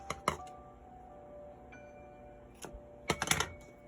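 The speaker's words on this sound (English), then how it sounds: "I'm gonna pre-cut a piece here with my scissors" Scissors pre-cutting a strip of washi tape at a craft table: a few quiet, crisp snips, with one near the start and a quick cluster toward the end, no talking.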